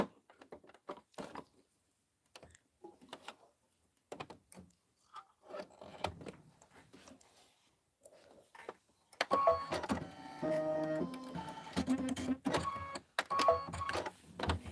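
An embroidery machine stitches with buttercup-yellow thread on a sun-themed design. Sparse soft clicks and handling noises come first, then a loud, steady, rapid mechanical stitching rhythm runs through the final third.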